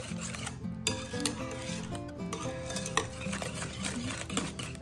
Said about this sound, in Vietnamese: Đặc biệt là không cần máy đánh trứng, cứ đánh bằng tay thôi, cứ tan đều là được rồi.